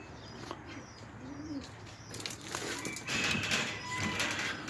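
Pigeons in a shed pigeon loft, soft low coos and scattered chirps over a quiet room hum, faint and close, with rustling growing busier toward the end.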